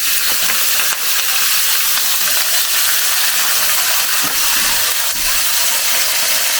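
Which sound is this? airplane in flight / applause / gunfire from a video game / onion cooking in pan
onion cooking in pan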